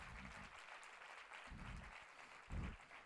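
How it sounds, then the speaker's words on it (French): A conference audience applauds its participants, with soft, fairly distant clapping heard faintly and unevenly, rising in short bursts. "je crois qu'on peut vraiment applaudir, je dirais, nos différents participants"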